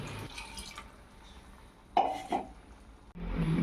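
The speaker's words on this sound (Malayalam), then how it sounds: "പുളിവെള്ളവും ചേർത്ത് നന്നായി ഇളക്കിയെടുക്കുക" Tamarind water is stirred into curry in a clay pot, with soft liquid sloshing and a few short scraping, splashing bursts, close and fairly quiet.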